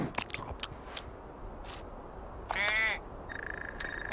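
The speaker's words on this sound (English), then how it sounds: "Hello there, bird." A bird calling in the video game I Am Future, a few short harsh caws and a buzzy chattering call among scattered clicks and taps, faint and alone with no talk.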